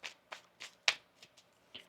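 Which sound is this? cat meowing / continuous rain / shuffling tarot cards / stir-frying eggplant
shuffling tarot cards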